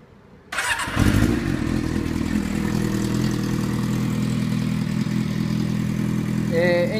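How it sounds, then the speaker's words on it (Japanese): A Yamaha XJR400R motorcycle engine cranks on the starter and fires on the first try after a short quiet start, then settles into a steady, loud, close idle with an even rumble for the rest of the clip. "セル一発にてエンジン始動、アイドリングも処理、エンジン音、嫌な異音と、白煙などもありません。"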